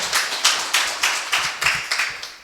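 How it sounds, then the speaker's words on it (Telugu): Congregation at a Sunday church worship service clapping loudly in a steady rhythm, about eight sharp, close claps in under three seconds with no talking. "గట్టిగా చప్పట్లు కొట్టండి."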